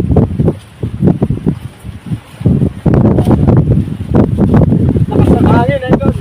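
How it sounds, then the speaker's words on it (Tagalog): Strong wind gusts buffet the microphone outdoors at a fishing spot in Taliptip, Bulacan, a steady roaring rush with bursts throughout while people talk over it. "Lakas ng hangin"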